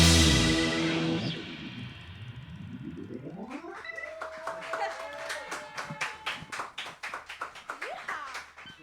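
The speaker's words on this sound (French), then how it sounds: "Je sais pas si on entend tous les applaudissements de toute l'équipe" A team claps and applauds together in a live radio session, a steady patter of many hands that grows more distinct and rhythmic over time, with tonal music-like sounds mixed in the background.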